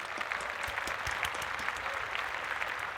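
A small group claps steadily at moderate volume for a few seconds, a dense patter of hands with no voices over it.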